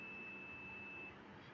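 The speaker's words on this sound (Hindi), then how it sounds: "जैसे ही अगर पूरा वायर कंटिन्यू है तो एक बीप का साउंड प्लस वैल्यू भी दिखा रहा है।" A multimeter continuity test beep, a single steady high-pitched tone held for about a second before cutting off, faint and alone.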